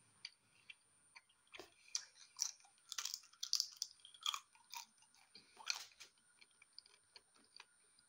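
Crunchy food being chewed during an extreme food tasting, giving a run of close, dry crackling bites in irregular bursts with brief pauses, mostly on its own without talk.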